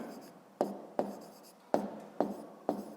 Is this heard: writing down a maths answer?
yes